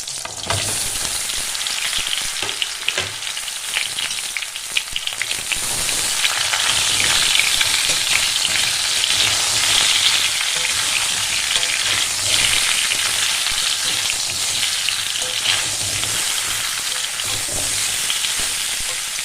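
Sun-dried mango pieces for a sweet-sour-spicy pickle fry and get stirred over a medium flame, making a continuous dense sizzle with scraping stirs that swells slightly midway, with no talking.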